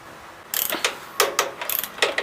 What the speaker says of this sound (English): there's a bolt, and we're gonna just use this wrench to get this out